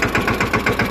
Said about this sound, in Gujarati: અત્યારે આપણે ધર્મેશભાઈનું ટ્રેક્ટર લઈને એને ઘરે મૂકવા જઈ રહ્યા છીએ